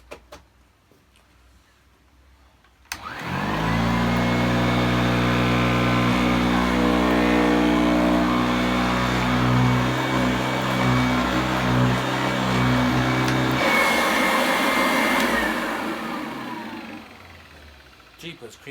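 A rare German Fakir 350 vacuum cleaner switches on with a sudden surge into a steady, loud motor whine with a strong hum, runs for about ten seconds, then powers down and fades out.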